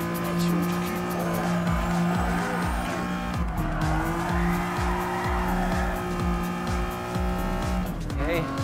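A TVR Tuscan Speed 6 drifting in Gran Turismo Sport, its engine droning steadily while the tires squeal almost nonstop through the slide, loud and close, with a commentator's voice running over it.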